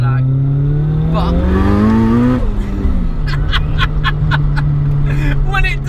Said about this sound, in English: This is how you have to pull away. Everywhere, like rev, and then there's a lot of turbo lag